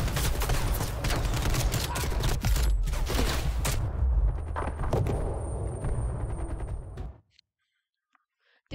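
Soldiers' gunfire rattles nonstop in Call of Duty Black Ops Cold War, loud dense bursts and thuds under hushed voices for about seven seconds, then cutting to near silence.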